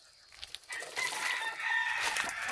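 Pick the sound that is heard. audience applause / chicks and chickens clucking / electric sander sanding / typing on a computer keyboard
chicks and chickens clucking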